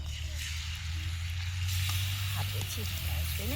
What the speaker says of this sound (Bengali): লোটে মাছটা মাখানো হয়ে গেছে এবার তেলে দিয়ে দিলাম